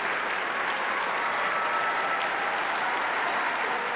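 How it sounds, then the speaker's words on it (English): Sustained, dense applause from a large assembly at the United Nations in 1990, a standing ovation for Nelson Mandela, steady and loud throughout without letting up. "On his first ever visit to the United Nations in 1990, he received a standing ovation that seemed to go on forever"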